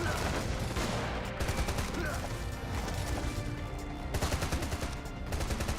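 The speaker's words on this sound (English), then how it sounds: "You can shoot while grappled to the wall" Weapon fire in a first-person video game while the player hangs grappled to a wall: a loud, continuous barrage of rapid shots and crashing impacts, with brief quieter gaps between bursts.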